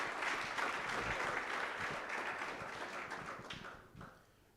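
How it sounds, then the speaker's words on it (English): Audience applause at a personal finance workshop, a steady patter of many hands that thins and tapers off near the end, fairly quiet overall. "Round of applause, ladies and gentlemen."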